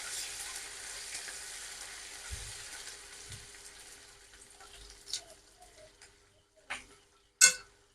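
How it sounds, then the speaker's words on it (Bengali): Chopped ginger frying in a pan for a vegetarian momo filling: a faint, steady sizzle with a few soft stirring knocks and louder scraping clicks near the end, without speech. "আদাটা একটু ভেজে নিয়েছি"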